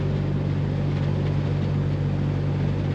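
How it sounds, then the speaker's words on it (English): A 1974 Volvo 1800 ES sport wagon's small four-cylinder engine hums steadily while driving, a constant low drone mixed with road and cabin noise, unbroken and with no talking. "Powered by a little 4-cylinder that just hums along happily."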